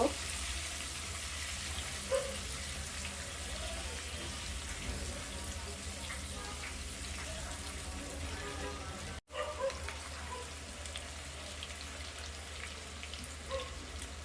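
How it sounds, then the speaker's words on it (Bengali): Potato pieces with a little turmeric frying in hot oil until lightly golden for aloo dum, a steady, dense crackling sizzle that stays fairly even throughout, with one very brief dropout near the end. "আমি আলুগুলোকে একটু হালকা লাল করে ভেজে দিব"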